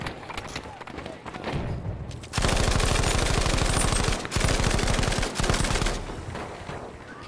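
A submachine gun fires in Battlefield 5, with loud, close, rapid automatic bursts that rattle for several seconds. Quieter game sounds come before and after the bursts.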